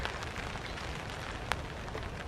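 Steady rain patters across a hammock campsite in a constant, close hiss, with one brief sharper drop or tap standing out partway through and no voices.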